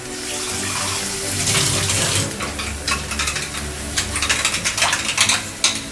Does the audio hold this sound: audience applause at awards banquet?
no